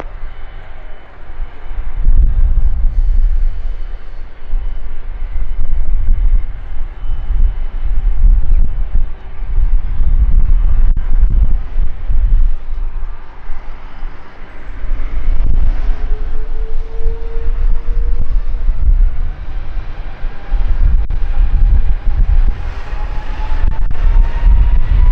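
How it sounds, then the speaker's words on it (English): Aircraft taking off from runway 21 at Eindhoven Airport, a steady loud low rumble with wind buffeting the microphone that swells and holds for about twenty-five seconds, heard alone without talk. "runway 21, clear for takeoff"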